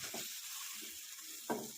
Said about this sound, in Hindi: एक एक करके मैं इसमें अंडे डाल दूँगी। और हल्के हाथों से इनको मिक्स कर लूँगी